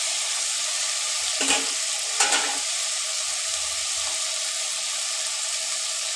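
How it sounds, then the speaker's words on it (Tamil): Chopped okra fries with browned onions in a pan, a steady moderate sizzle running throughout, broken by two brief scraping stirs near the middle, with no talking. "நம்ம கழுவி சின்னதாக கட் பண்ணி வச்சு வெண்டைக்காவை போட்டுக்கணும்."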